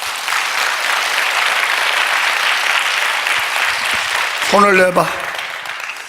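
A church congregation applauds together during a revival service, a steady wash of clapping that runs on while a voice briefly speaks over it near the end.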